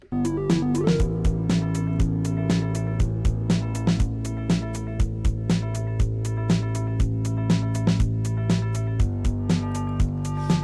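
Electronic music with steady kick drum hits pumping through sidechain compression, the sustained chords and bass ducking rhythmically with each beat so the sound cuts in and out at a regular pulse, loud and continuous with no talking.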